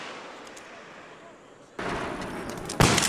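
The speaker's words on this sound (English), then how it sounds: "They fire a number of weapon systems, including the M249 SAW, the M240 Bravo, M250 Cal, and the Mark 19 heavy machine guns." Machine gun fire on a USMC crew-served weapons range, with M249 SAW, M240 Bravo, .50 cal and Mark 19 weapons, starts as faint distant rumble, then jumps into loud sustained firing with a sharp burst near the end.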